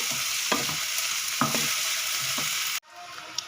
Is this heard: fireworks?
no